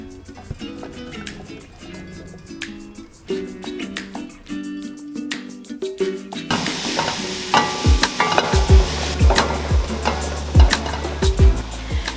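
Ingredients sizzling and being stirred in a pot of preheated vegetable oil while cooking lentils; a quieter stretch gives way to louder, steady frying with repeated scraping stir strokes near the mic, no talk.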